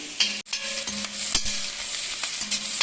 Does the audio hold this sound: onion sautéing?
yes